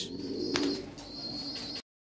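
European Lahori pigeons coo softly and nearby, with low, rolling coos and a faint thin background whistle, alone and without any talk.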